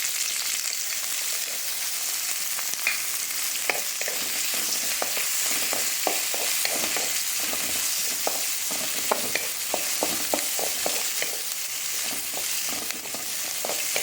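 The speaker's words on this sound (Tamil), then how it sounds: "எண்ணெய் காஞ்சிடுத்து. இப்போ நம்ம வெங்காயத்தை ஆட் பண்ணிக்கலாம்." Chopped onions sizzle steadily in hot oil for a Tamil-style chutney, with a dense, continuous crackle and scattered sharper pops throughout, close and fairly loud with no talking.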